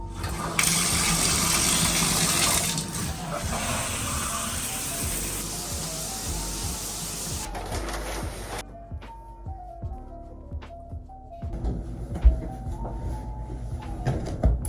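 A shower runs with a loud, steady rush of water. Partway through it cuts off, leaving a quiet room with scattered knocks, drips and faint sounds of movement.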